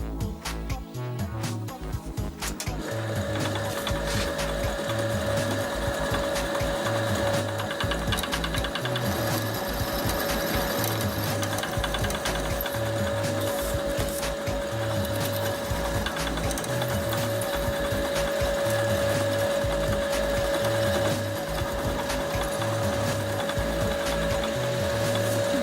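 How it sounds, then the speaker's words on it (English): A small drill bit boring into the head of a steel bolt, a brief clatter at the start giving way to a loud, steady high-pitched whine with a rhythmic chattering pulse underneath as the bit cuts continuously. "Now I will drill a hole on the mark with a small drill bit."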